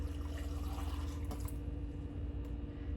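Warm water poured into canning jars during home canning, a continuous low gurgling pour with a few small drips and splashes, close and steady, with no voices.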